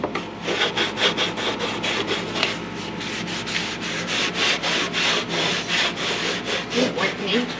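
A kei truck cowl is scrubbed clean by hand with quick, rhythmic back-and-forth rubbing strokes, loud and close, repeating steadily with no talking.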